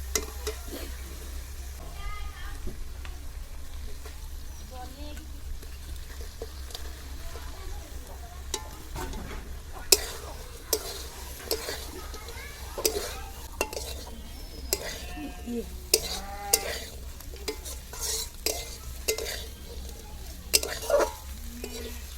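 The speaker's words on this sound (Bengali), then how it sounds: "মশলায় তেল ছেড়ে গেছে, এবার ভাজা মাছগুলো এর মধ্যে দিয়ে দেবো।" Fried small fish are stirred into a spicy masala cooked in oil with turmeric and salt, a soft steady sizzle beneath repeated scraping and clinking of a spatula against the pan, close and fairly quiet.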